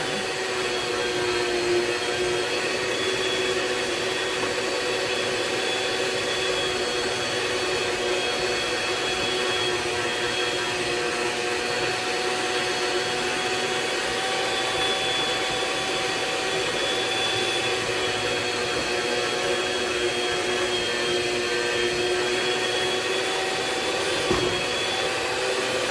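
Electric mixer beating cream cheese for a no-bake pumpkin cheesecake, a steady loud motor whir droning without a break, with no talking over it.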